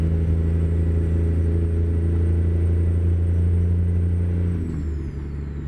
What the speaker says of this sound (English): these are the type of Jake brakes or that sound